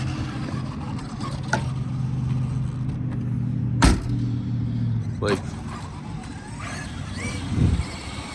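A Traxxas XRT 5th-scale RC truck drives off on its first run, its electric motor whirring and rising in pitch in short surges, with sharp bursts of noise as it moves, while someone talks over it.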